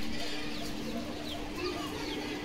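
Pigeons at a pigeon loft sale in Bogura give soft, low cooing, faint and steady beneath a continuous background hum and noise.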